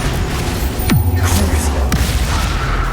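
Bombarda spell explosions in Hogwarts Legacy: two deep booms about a second apart, each with a falling whoosh, over a constant dense wash of game combat noise.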